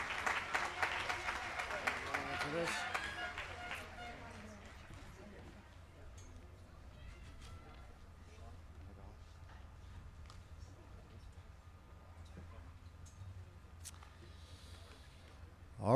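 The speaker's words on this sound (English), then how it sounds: "clap your hands for all of our students that have received this designation" An audience at a high school graduation ceremony applauds the graduating students, clapping strongly for a few seconds before it fades into quieter crowd murmur and distant voices.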